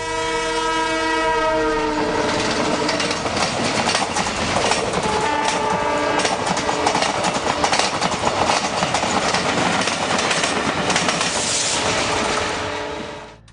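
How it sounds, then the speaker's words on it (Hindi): A Talgo high-speed train with lightweight aluminium coaches runs past on a trial between Bareilly and Moradabad, horn blaring at the start over a loud, steady rush and clatter of wheels that fades at the end. "ये ट्रेन 250 किलोमीटर प्रति घंटे की रफ्तार से दौड़ सकती है।"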